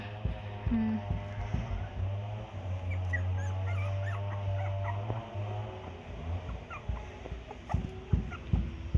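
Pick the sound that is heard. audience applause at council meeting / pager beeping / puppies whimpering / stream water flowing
puppies whimpering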